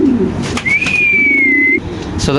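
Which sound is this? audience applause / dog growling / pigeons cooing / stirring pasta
pigeons cooing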